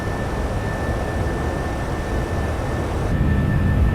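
Boeing 747-200 engines in X-Plane 11 with the FT Sim payware sound pack, a steady, loud broadband roar with a thin high tone running through it, unbroken for the whole stretch.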